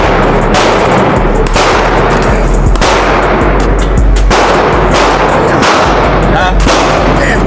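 Gunfire at an outdoor shooting range, with loud sharp shots cracking every second or so through a constant roar of wind, each report booming close and heavy.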